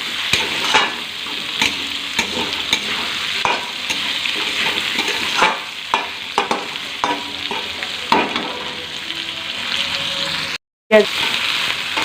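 Onion, green chilli and capsicum are stir-fried in a pan, a loud close sizzle with frequent spatula scrapes and clatters and a brief silent break near the end, with no talking.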